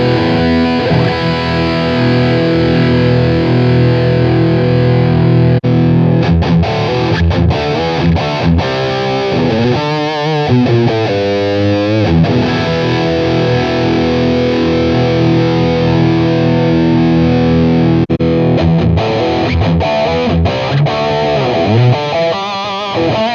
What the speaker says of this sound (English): listen to different cabs and hear how they compare to one another